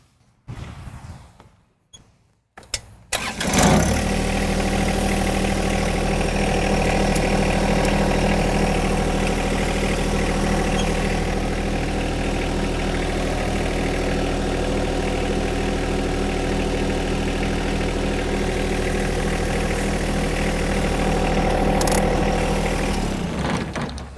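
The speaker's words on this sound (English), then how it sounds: "I'll now pull away from the backhoe" A John Deere 1025R compact tractor engine runs steadily and close by for over twenty seconds as it pulls away from a detached 260B backhoe, a low, even rumble starting after a few seconds of quiet knocks.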